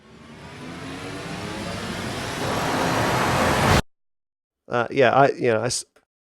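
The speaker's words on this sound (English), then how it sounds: "the way to do that, obviously, is with risers, which I believe are these guys" A synthetic cinematic riser for trailer music swells in noise and pitch for about four seconds, then cuts off abruptly, followed by a brief spoken comment.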